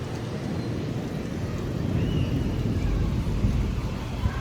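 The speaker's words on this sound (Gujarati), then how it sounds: "કેવડો કડાકો બોલ્યો." A deep, sustained rumble of thunder rolls on, swelling slightly toward the end, with steady wind or rain noise underneath and no voices.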